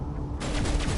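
Video game gunfire aimed at a tree: a quiet lead-in, then a rapid burst of sharp shots that begins midway and continues to the end, fairly close and loud.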